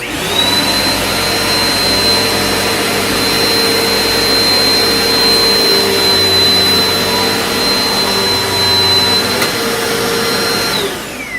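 A Eureka PowerSpeed upright vacuum cleaner motor whirs steadily with a high-pitched whine, loud and close, running continuously before cutting off near the end.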